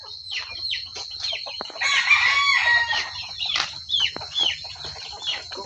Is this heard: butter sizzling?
no